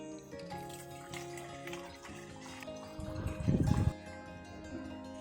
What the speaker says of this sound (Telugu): నేను ఐదు డొక్కులు నీళ్ళు వేసాను